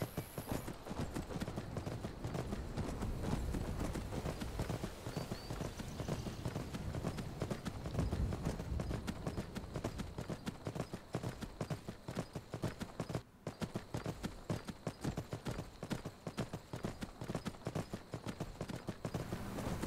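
Wild horse hooves clip-clop steadily in Skyrim, a continuous rhythmic trotting that stays close and fairly loud throughout with no talk over it.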